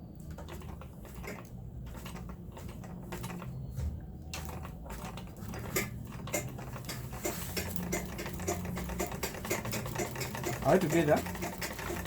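A sewing machine stitches straight lines in paper, a quiet, close mechanical whir and tapping that grows busier partway through, while a person talks briefly over it.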